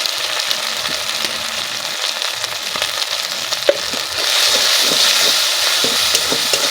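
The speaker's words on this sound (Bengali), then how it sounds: "মশলাটা আমি এবার দিয়ে দেবো তেলের মধ্যে। মশলাটা একটু কষিয়ে নেব।" Spice paste fries in hot oil with salt and turmeric for a fish head and maan kochu curry. A steady crackling sizzle runs throughout and grows louder and brighter in the second half, with occasional stirring scrapes.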